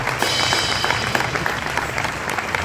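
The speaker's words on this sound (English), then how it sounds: "a round of applause for Mr. Ochoa" An audience applauds a contest winner with dense, continuous clapping at a steady, even loudness throughout.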